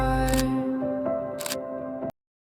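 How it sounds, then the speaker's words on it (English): Two quick, crisp camera shutter clicks snap about a second apart, laid over a sustained tonal musical bed that cuts off abruptly after two seconds. "The logo changes and then the shutter sound effect plays."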